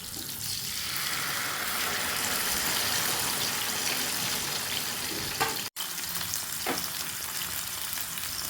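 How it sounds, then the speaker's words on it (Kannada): Masala-marinated gore fish fries in a pan with a loud, dense, continuous sizzle and crackle that holds steady close by, cut by one brief dropout and a few faint utensil clicks, with no voices. "ನೋಡಿ, ಇವಾಗ ಫ್ರೈ ಮಾಡಲಿಕ್ಕೆ ಇಟ್ಟಾಯಿತು."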